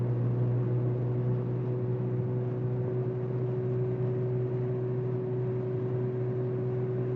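A 1998 Mazda MX6 with a manual gearbox drives along with a steady, droning exhaust resonance, a constant low hum that is fairly quiet and unbroken, with no talk.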